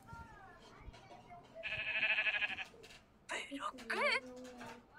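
Blocky sheep from the Minecraft movie trailer bleat in a couple of short, wavering calls, bright and fairly loud above a quieter backdrop of murmured talk and soft sounds.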